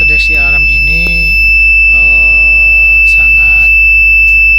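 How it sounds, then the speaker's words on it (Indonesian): A smart fire detection prototype sounds its alarm buzzer, a steady loud tone running throughout while a voice speaks over it. "Dan terdeteksi alarm ini"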